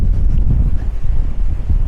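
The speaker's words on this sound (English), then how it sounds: "it's crazy windy out there" Strong outdoor wind pounds the microphone in a dense, low rumbling roar, loud and unbroken, with gusts swelling and dipping and no voices.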